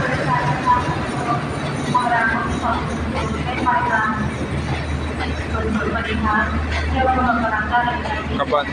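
Alstom locomotive 4129 hauls ordinary train 372, Prachinburi to Bangkok Hua Lamphong, into a station platform, a steady rumble of wheels and engine under continuous talk and platform chatter.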